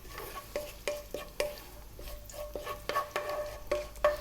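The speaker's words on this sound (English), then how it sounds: "I'm going to drop in those cumin seeds and the green cardamom and just let" Cumin seeds and green cardamom crackle faintly in hot oil, with soft sizzling and scattered pops and light clicks of a pan over a few seconds, no talking.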